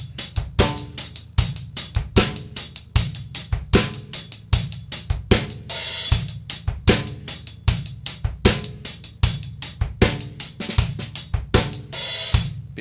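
A drum kit plays the beat of a song slowly and evenly, with steady kick and snare hits and quick hi-hat strokes, loud and close, with no talking.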